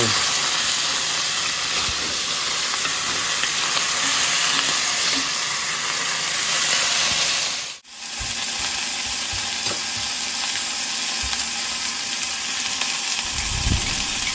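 Garlic sautéing in a hot pan while cooking Filipino chicken tinola, a loud steady sizzle and hiss that breaks off sharply midway, then resumes with faint stirring clatter.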